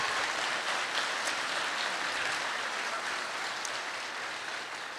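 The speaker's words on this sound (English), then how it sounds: "If you could give him a round of applause for all his support." A commencement ceremony audience claps continuously, a thick, uniform wash of applause at moderate distance that barely changes in strength and fades only slightly near the end.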